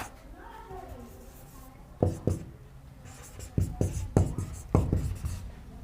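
A teacher writing on a classroom board, with a run of short tapping and scratching strokes that come in clusters. A voice is heard faintly in the background.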